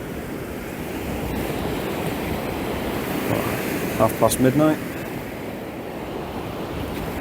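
Tide water rushing and surging in at Drains Bay at night, a steady broadband wash of waves close by, with a brief voice speaking over it partway through.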